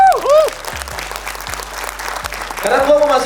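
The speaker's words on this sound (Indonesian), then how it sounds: "Boleh minta tepuk tangannya?" An audience at a film discussion event claps briefly and continuously, with a speaker's voice audible over the applause at the start and end.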